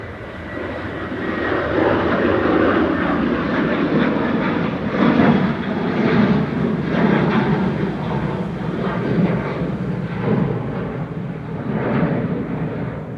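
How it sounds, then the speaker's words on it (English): A Boeing 737-800 airliner, registration EI-GXL, departs Manchester Airport for Dublin, its engines producing a loud continuous roar with rumbling pulses that stays strong throughout. "Right now, heading back to Dublin, EIGXL 737-800, flight 553."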